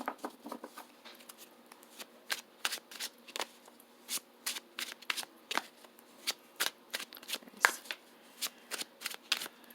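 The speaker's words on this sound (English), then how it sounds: "I'm going to stick these back in the deck." Tarot cards are shuffled back into the deck in quick riffling bursts, close and crisp, repeating irregularly with short pauses and no talk.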